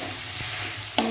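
Spice paste being sautéed in a pan for a pointed gourd (potol) korma, a steady broadband sizzle with scraping stir strokes and a sharper clatter near the end.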